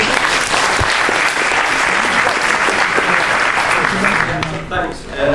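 A full crowd applauds loudly and steadily for several seconds, a dense wash of clapping that thins slightly near the end.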